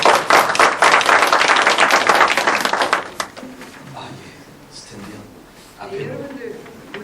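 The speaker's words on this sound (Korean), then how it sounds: "자, 우리 박수로 모시겠습니다." An audience at a church ministry seminar claps to welcome a visiting professor: about three seconds of dense, steady applause that then breaks off into quieter room sound with a voice speaking.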